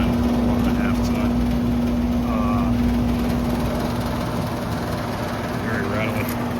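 A rattly 2001 1.5-ton HVAC unit runs steadily up close, a constant mechanical drone with a strong low hum and buzzy rattle, with a voice talking over it.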